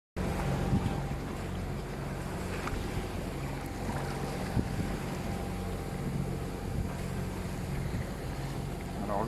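Steady drone of a sailboat's engine motoring under power, with wind buffeting the microphone, continuous and fairly close throughout.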